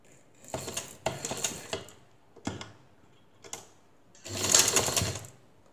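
Sewing machine stitching the hem of a kameez in several short bursts of rapid mechanical chatter, with pauses between runs and a longer, louder final burst, close by with no talk.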